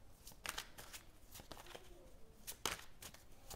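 Tarot cards are shuffled in quick, soft riffling bursts, close and fairly quiet, with short pauses between the flurries.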